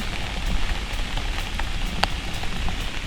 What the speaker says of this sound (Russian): мне нравится ходить под дождем.